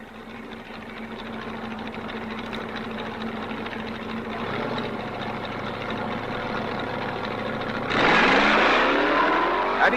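A Ford-powered B-fuel dragster and a Corvette sit idling at a drag race, their engines rumbling and building, then one revs hard into a loud, rising roar near the end.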